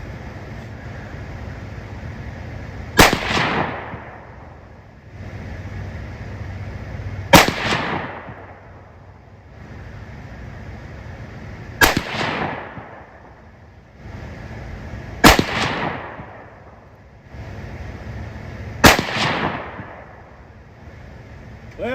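Five loud, sharp rifle shots firing .223 handloads at a target, spaced roughly four seconds apart, each with a ringing outdoor tail over low background wind noise.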